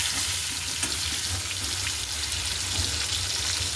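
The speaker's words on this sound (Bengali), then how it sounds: "আমি কাঁচা তেলে আলু ভাজি" Potatoes fry in raw oil in a wok with a dense, steady sizzle and crackle throughout, close and fairly loud, with no talking.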